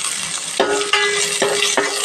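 Cumin and fennel seeds frying in a pan for fish curry, giving a loud, steady sizzle broken by a few scraping stirs of a spoon.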